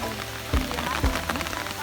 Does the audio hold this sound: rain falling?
yes